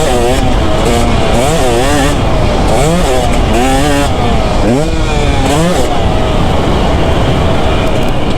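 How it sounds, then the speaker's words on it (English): A 2024 KTM 250 SX two-stroke dirt bike lugging in gear, a loud close buzzing engine that rises and falls in repeated swells as the throttle works, with a rider's voice faintly underneath. "Just keeping it lugged in second gear or third gear."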